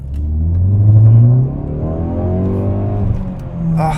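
A Ford Focus ST engine revs up loudly with a rising pitch, drops briefly at a smooth gear change, then climbs again.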